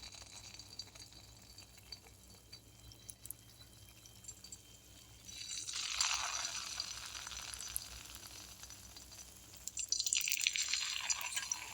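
Banana fritters coated in batter crackle and sizzle in hot oil. The frying swells louder midway and again near the end, with no talking.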